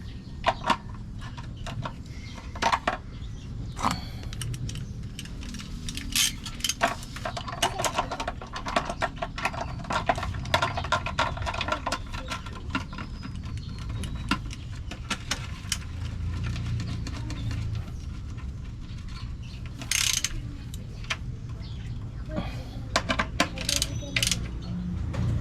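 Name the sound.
ratchet tightening transmission pan bolts on Toyota Grandia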